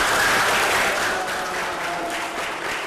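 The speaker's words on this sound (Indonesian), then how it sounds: "Margaret Megawe, ibu angkat Angelin, langsung disambut tepuk tangan pengunjung sidang Pengadilan Negeri Denpasar, Bali." Courtroom visitors at the Denpasar District Court in Bali applaud a life-sentence verdict, a steady, dense burst of clapping from many hands that fills the room without pause.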